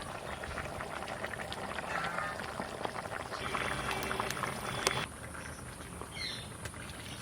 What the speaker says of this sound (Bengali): এই আলুটা কেটে আমি এখন দিয়ে দেবো।